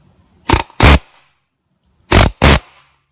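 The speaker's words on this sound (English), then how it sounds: "Take this here air chisel, that one there, and just give it a little" An air chisel hammers a stuck brake bleeder screw in two short bursts, each a pair of loud, sharp rattling blasts separated by a pause, with no talk.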